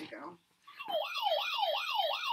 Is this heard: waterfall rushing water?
no